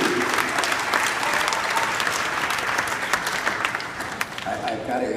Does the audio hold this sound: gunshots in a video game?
no